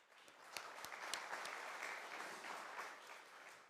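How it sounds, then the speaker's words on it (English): Round of applause from a conference audience for sponsors, partners and organizers at an international MLS forum, with a few sharp nearby claps standing out early over a broad, fairly quiet wash of clapping. "Let's give a big round of applause to all of our sponsors"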